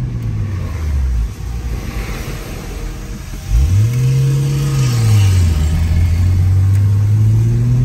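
A car engine rumbles low, then revs up with a rising, wavering intake roar that holds steady and loud to the end.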